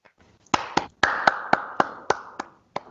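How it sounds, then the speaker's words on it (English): Clapping at a KFC mini-cricket seminar comes as about ten sharp, separate hand claps at a slow, slightly uneven pace. It is sparse and fairly quiet, with no talk over it. "please start the clapping and screaming for Mfuneko Ngam."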